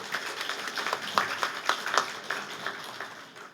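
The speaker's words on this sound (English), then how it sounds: "Can we give Dr. Dung one more round of applause?" Audience applause at a community Mother's Day celebration, a steady patter of scattered hand claps with some louder individual claps, fairly sparse and moderate in volume, fading slightly toward the end.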